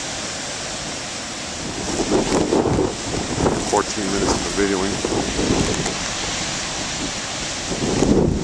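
Big ocean waves crash and wash onto the shore in rain and wind, a loud, steady surf roar with wind buffeting the microphone, while someone speaks briefly.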